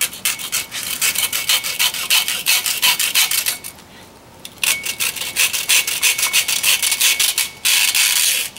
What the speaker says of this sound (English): We're sawing it now.